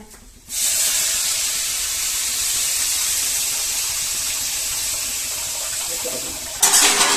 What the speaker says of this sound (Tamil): புளி தண்ணி ஊற்றிக்கலாமா